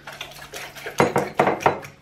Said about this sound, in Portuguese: Vou só dar assim uma batela com o garfo.